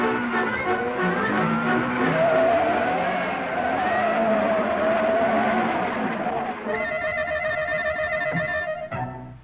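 Cartoon motorboat in a 1936 Looney Tunes short buzzes along loudly with a droning motor, then screeches to a halt with a ringing, bell-like tone, as if braked; the sound is continuous and up close, with a brief tail at the end.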